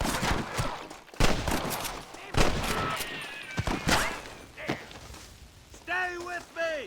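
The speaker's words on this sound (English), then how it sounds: "Good shooting, boy." Gunfire in the Western video game Red Dead Redemption on Nintendo Switch during a shootout, loud bursts of shots mixed with game dialogue and music, ending in a tonal musical sting.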